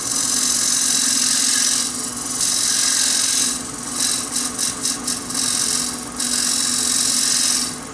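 Skew chisel cutting wood on a spinning lathe during woodturning, a loud continuous hiss and rasp from the tool on the workpiece, broken by several short bursts and pauses as the cut varies, close and with no voices.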